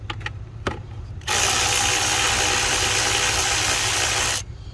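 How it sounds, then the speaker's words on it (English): A power tool, likely an impact or air ratchet, whirs loudly and steadily for about three seconds while removing torque bolts on a 2011 Chrysler 200 during an oil cooler replacement, preceded by a few sharp clicks. "we can go ahead and go around and start taking these torque bolts off"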